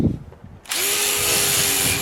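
Power sander grinding on a steel lawn roller, starting abruptly and then running loud and steady at close range with no talking.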